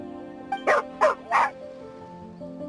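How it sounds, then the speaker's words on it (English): A dog in the Genshin Impact video game gives three short, close barks in quick succession over a steady low musical background. "Here, doggy. Good doggy."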